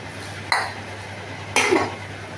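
Two metallic clanks about a second apart as a lid goes onto a cooking pot on a gas stove after a splash of hot water, sharp and close over a steady low hum.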